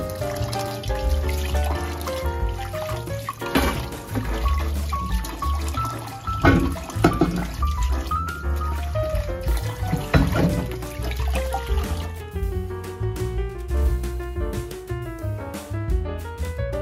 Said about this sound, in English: Wash the bamboo shoots and remove the rice cooked with them.